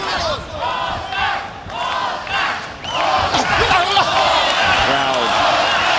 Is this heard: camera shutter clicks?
no